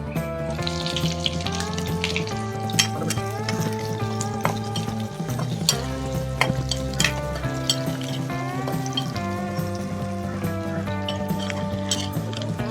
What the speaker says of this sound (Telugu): ఉల్లిపాయలు కొద్దిగా ఫ్రై అయిపోయినాయి